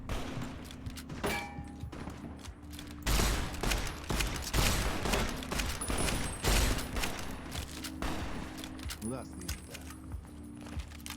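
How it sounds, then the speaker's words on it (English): Gunfire in the video game Fallout New Vegas: loud, repeated bursts of shots crack through a dense, busy mix, with a steady hum beneath and a voice faintly present. "I know I'm under fire"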